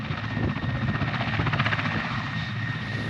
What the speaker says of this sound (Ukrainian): Мі 8 це справді багатофункціональний гелікоптер.